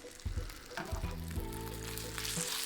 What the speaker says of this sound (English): this is sizzling, which is what we want.